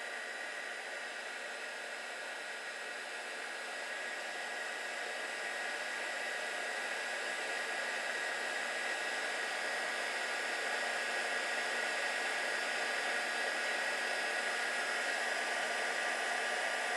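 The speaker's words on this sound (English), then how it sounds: "Usually I'll just keep the heat gun on it until I get the opaque look that I'm looking" A heat gun blows hot air steadily onto jewelry resin to cure it to an opaque finish, a loud, even whooshing hiss that runs unbroken and close for the whole stretch with no talking.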